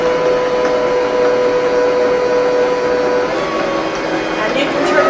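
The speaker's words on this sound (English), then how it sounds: "then you turn on your mixer" An electric hand mixer whirs steadily through oatmeal muffin batter, a loud continuous motor hum with a faint voice occasionally audible beneath it.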